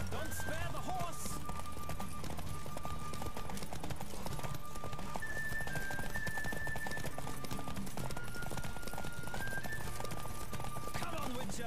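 Horse hooves clip-clopping at a gallop during a race in the video game The Witcher, steady and continuous under game music and voices talking throughout.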